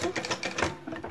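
Sewing machine making a short backstitch while sewing a popcorn-themed cushion: a brief, close, rapid mechanical chatter of stitches lasting about a second.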